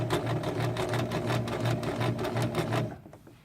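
A sewing machine stitches a fabric tote bag, its needle humming in a fast, even chatter. The close, loud run lasts about three seconds, then stops and fades.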